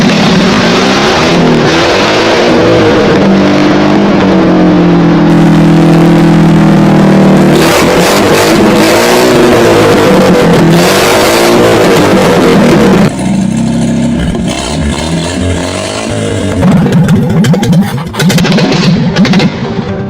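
A 1960s Beijing jeep engine runs loud and close for twenty seconds, rising and falling through repeated revs with a rough mechanical roar throughout.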